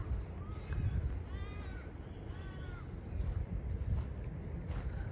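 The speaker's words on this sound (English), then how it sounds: "I can hear that crow in the background." A crow caws a few times in the distance, harsh repeated calls over steady wind rumble outdoors.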